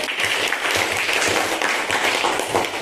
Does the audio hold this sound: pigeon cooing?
no